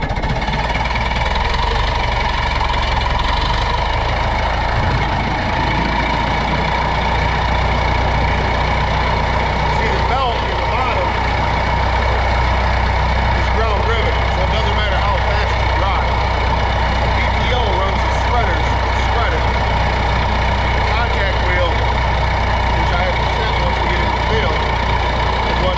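A tractor engine runs steadily throughout at close range, a loud continuous low rumble with a knocking idle character.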